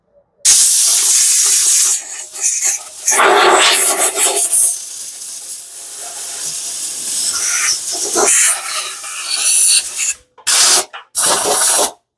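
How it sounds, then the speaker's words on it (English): Aerosol can of WD-40 sprayed onto removed 1971 Volkswagen Super Beetle engine parts, loud close hissing bursts of varying length with short pauses, ending in quick separate squirts. "On the WD-40 and start soaking these."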